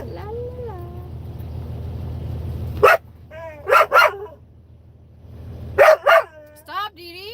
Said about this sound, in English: Loudest dog in history.